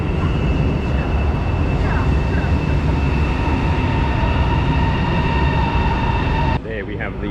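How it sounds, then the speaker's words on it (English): A China Rail train pulls into Songjiang station with a loud, steady rumble and a high whine that continue throughout, then ease off abruptly near the end. "And there's our train coming in."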